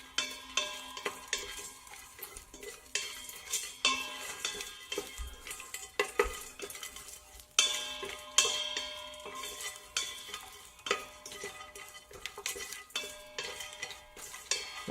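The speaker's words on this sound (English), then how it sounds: "all the spices are getting roasted right now" Whole spices roasting and being stirred in a pan for restaurant-style mutton biryani, with repeated scraping and clinking of a spoon against the metal and a soft sizzle underneath, steady and close throughout.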